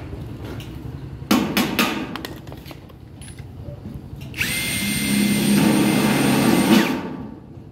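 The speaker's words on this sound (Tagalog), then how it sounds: "Martilyo." A few sharp metallic hammer blows ring out early on double S gutter metal, followed by a steady whirring power tool that runs for several seconds, close and fairly loud.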